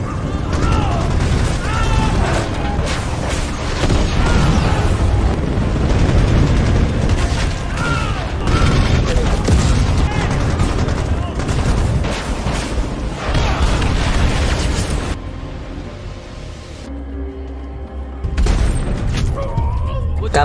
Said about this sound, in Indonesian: Helikopter Apache yang sudah menerima titik lokasi mortir musuh segera menghujani mereka dengan serangan rudal dan tembakan mesin dengan begitu dahsyat